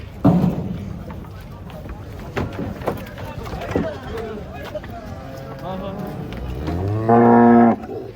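Cattle moo loudly nearby while being unloaded from a truck, one long low call near the end standing out, amid clattering, shuffling and people talking in the background.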